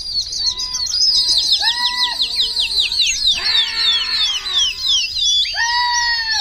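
Young pigeons in a large loft flock of about 1500 birds give rapid, loud, high chirping squeals, many calls overlapping in dense repeated bursts close by.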